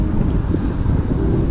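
Strong, steady wind buffets a Hubsan 107C+ mini drone flying outdoors, a constant low roar of gusts across the microphone with no talk.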